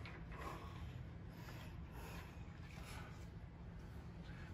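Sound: tightening transmission pan cap screw with a ratchet

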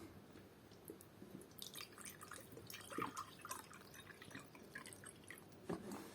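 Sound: pouring spring water into a glass

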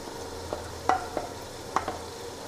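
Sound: green chillies and chickpeas sautéing in a pan

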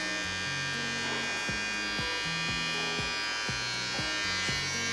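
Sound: electric dog hair clippers running

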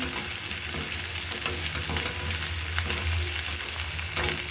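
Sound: vegetables frying in oil with salt

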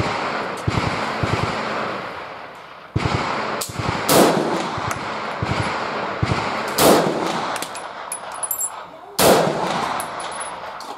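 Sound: VPO-209L rifle shots hitting a steel gong target

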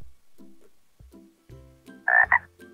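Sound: frog croaking

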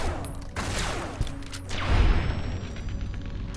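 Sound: gunfire and explosions in video game Fallout: New Vegas

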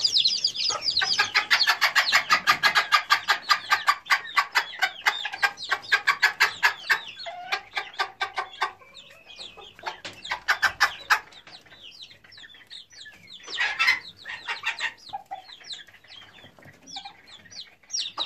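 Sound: hen and chicks clucking while eating chopped lahmacun

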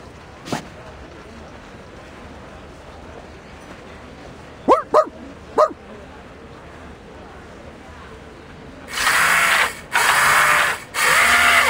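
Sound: dog barking in Reverse 1999 video game

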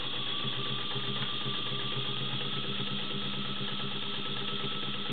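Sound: vintage White model 265 sewing machine running in reverse

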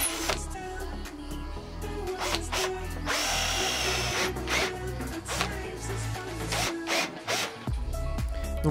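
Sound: power drill drilling four holes in bathroom furniture

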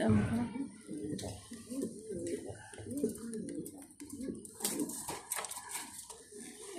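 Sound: Mundiyan pigeons cooing in a cage on a farm

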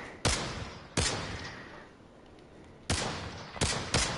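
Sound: gunfire in the video game Pavlov VR2

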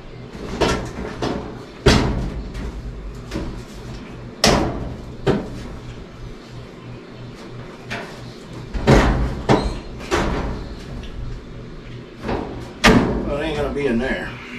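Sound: door being handled and taken off

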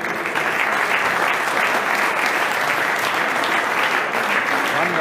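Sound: applause for boxers at a boxing championship

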